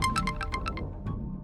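A mobile phone plays a short, bright electronic ringtone of about seven quick, evenly spaced chiming notes, followed by one fainter note, over a low indoor background hum.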